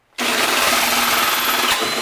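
A power drill fitted with a hole saw and a keyless chuck bites into a metal ammo box, a loud steady whine and grinding roar starting abruptly and running continuously, close up.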